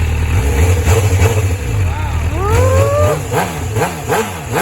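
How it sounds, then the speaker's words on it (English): A 2008 MV Agusta F4 R312 sportbike engine revs loudly nearby, rising pitch sweeps climbing then falling back, with steady low engine rumble and people talking over it. "Time to rev it a little."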